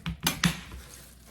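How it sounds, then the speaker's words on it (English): A knife cuts the bottom off a napa cabbage on a cutting board, producing two or three quick, crisp chopping knocks in close succession, then quiet. "I am going to slice off the bottom"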